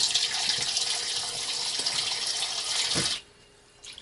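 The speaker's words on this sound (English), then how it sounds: "I fill it up with some fresh water" A tap gushes fresh water into a container holding smelt fish, a steady loud hiss of running water for about three seconds before it shuts off abruptly.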